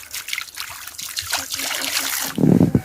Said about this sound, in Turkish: Bunun içine sıcak su koyduk. Sıcak su eritir mi bilmem ama şuraya da biraz dökeyim.